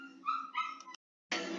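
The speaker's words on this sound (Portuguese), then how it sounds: "meu cachorro fica doido, começa a latir e não dá pra falar direito." A dog barks and yips in a home, several sharp harmonic calls close together near the mic, then a short silence and a burst of noise.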